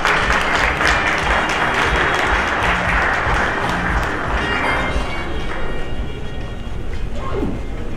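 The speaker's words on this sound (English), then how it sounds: "Please welcome them with a big hand." Sustained applause from a conference audience welcoming panelists at an AI and blockchain industry panel, a dense steady clapping that fills the whole stretch and thins slightly toward the end.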